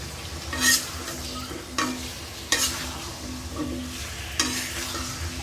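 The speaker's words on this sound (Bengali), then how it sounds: "কষানো হয়ে গেছে, এখন কেটে রাখা শসাগুলো দিয়ে দেব।" Cucumber pieces tossed into a pan of frying spiced prawn masala, with steady sizzling and repeated scraping stirs of a spatula against the pan, close and clear.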